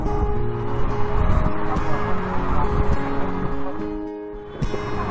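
A large crowd of motorcycles rides together in a street demonstration in Barcelona, engines giving a dense, continuous close-range rumble with fluctuating revs and occasional sharper bursts throughout.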